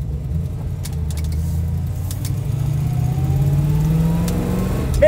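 A car engine revs steadily while driving down a quiet village street, a loud mid-pitched drone that rises gradually in pitch over several seconds, with no talking.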